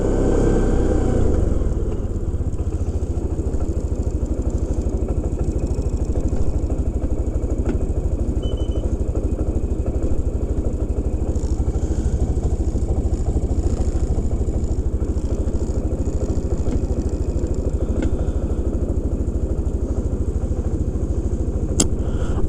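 A small MSA 400 engine runs steadily in low gear, a constant close, loud throbbing drone with no revving and no talk over it.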